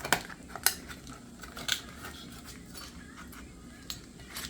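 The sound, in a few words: sharp kitchen knife slicing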